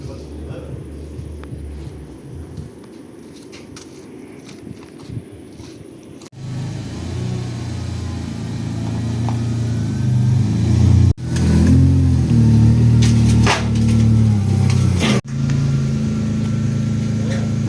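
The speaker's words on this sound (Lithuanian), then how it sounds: "Mašinos užvarimo darbai." A rally car engine idles and then revs repeatedly during warm-up, growing louder and rougher in later bursts, with a few short cuts between takes and no voices in the clip.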